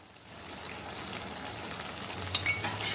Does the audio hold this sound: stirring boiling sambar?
yes